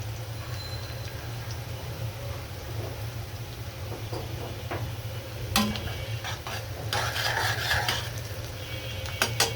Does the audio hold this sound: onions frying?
yes